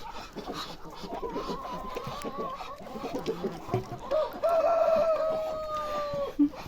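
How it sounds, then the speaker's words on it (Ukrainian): Roosters crow and hens cluck inside a barn, with overlapping calls and one long crow rising clearly above the others. "Півні поховалися, в сараї весь виспівують."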